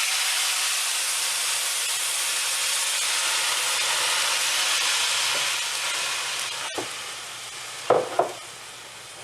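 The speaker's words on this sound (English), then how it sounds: "We're going to do a deglaze on this right now. So we're going to add some liquid to this" Cider poured into a hot pan to deglaze it gives a steady, close hiss of steam and sizzle that fades toward the end, followed by a few short scraping knocks.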